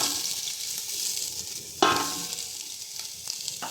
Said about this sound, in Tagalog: So mainit na po yung ating mantika, saka po natin ilagay na yung sibuyas at bawang at yung luya.